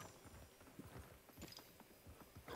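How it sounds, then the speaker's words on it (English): Faint hooves clop in an even walking rhythm, quiet and somewhat distant against a soft background. "I just heard a horse."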